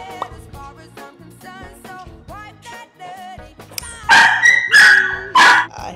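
Puppies bark and yip loudly at close range, starting with scattered short barks and whines, then bursting into several shrill, overlapping high-pitched barks toward the end.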